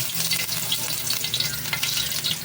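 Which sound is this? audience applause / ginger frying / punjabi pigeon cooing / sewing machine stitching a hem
ginger frying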